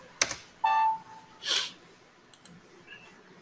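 A few sharp mouse clicks in SAP software, sparse and quiet against a faint hum, with one brief tonal beep among them.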